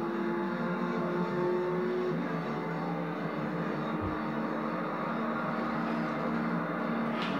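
Car racing in a video game played on a PS2 controller: a steady engine drone with shifting revs runs continuously at moderate loudness, with a soft low thump around the middle.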